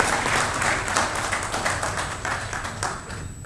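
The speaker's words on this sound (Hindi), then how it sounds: "तालियां आप लोग बजाते रहिए, हमारे फोटोग्राफरों का उत्साह कम हो जाता है इससे।" A crowd at the Bihar Pratibha Samman award ceremony claps steadily, a dense, even round of applause with occasional louder individual claps standing out.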